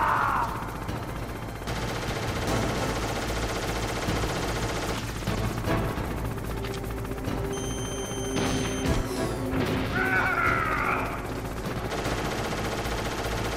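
A Hind D attack helicopter in Metal Gear Solid opens fire, sending sustained loud bursts of machine-gun fire with crashing impacts, a near and continuous barrage over engine drone with brief whining tones.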